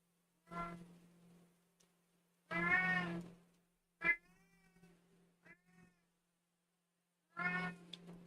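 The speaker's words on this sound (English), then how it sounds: "What are you meowing at?" A cat meows repeatedly, a mix of long drawn-out cries and shorter chirps with pauses between, fairly close and with no voices.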